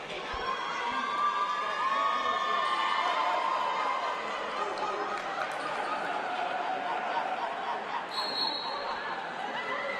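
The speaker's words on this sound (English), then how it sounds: "The crowd is rowdy tonight" A rowdy high school crowd roars continuously in a gym during a Brockton versus Lawrence boys basketball game, with cheering and shouting kids at a steady, fairly loud level throughout and a short whistle near the end.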